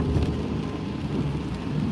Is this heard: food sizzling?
no